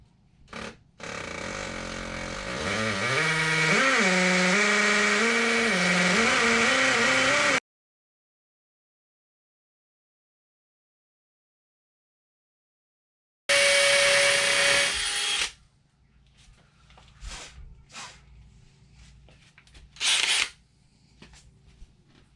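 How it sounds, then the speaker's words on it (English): A power drill whines steadily for several seconds drilling anchor holes to mount a whole-house sediment filter, its pitch shifting as it bites, then cuts off; later short bursts of drilling and clattering follow after a pause. "Let's go ahead and drill that out."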